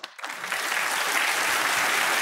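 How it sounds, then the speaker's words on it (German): Studio audience applauding at a German political satire show, a dense steady clatter of many hands that swells in after a brief pause and holds at full strength. "Und die Klatschaffen klatschen."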